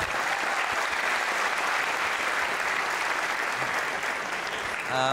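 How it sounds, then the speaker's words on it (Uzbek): Sustained audience applause for teachers at an Uzbek talk event, steady and dense throughout, with a brief voice cutting in at the very end. "iltimos bir qarsak chalib qo'ysanglar shu o'qituvchilarga"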